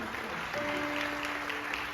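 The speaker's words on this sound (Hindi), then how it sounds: "जोरदार ताली बजा देंगे इसलिए सर।" A crowd at a Good Friday crucifixion play gives steady, dense applause that carries on throughout, with a faint sustained tone running beneath.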